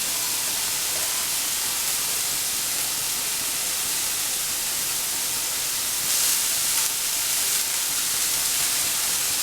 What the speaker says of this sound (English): we have to saute it in a very low flame